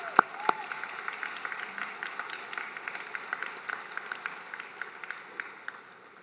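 Audience applause at a law school commencement ceremony, thin scattered clapping in a large hall, distant and fairly faint, with a couple of sharp nearer claps at the start.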